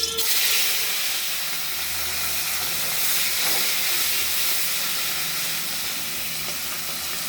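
Small tengra fish frying in oil in a hot kadai give off a loud, steady, continuous sizzle that holds level without a break.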